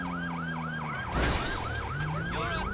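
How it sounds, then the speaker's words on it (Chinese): A police siren from the GTA 5 LSPDFR police mod wails in a fast repeating yelp, loud and close over a low engine drone, with a brief burst of noise midway. "这次用的警笛是它 GTA 那一件的"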